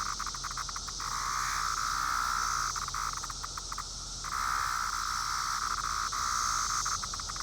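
Loud, close chorus of a male 17-year periodical cicada: a continuous high-pitched buzzing whine with short pulsing dips and one brief lull near the middle, no talking.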